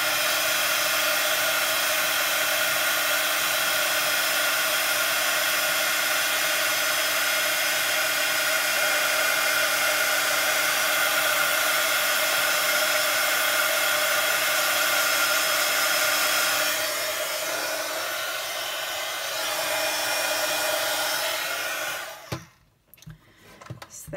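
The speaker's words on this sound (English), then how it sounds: "I'm going to be noisy. So I just leave my heat tool just to heat up a little bit off the actual card" Craft heat tool blowing hot air near a paper card gives a steady, loud whooshing drone with a fan whine for about twenty seconds, then cuts off abruptly, leaving a few faint knocks.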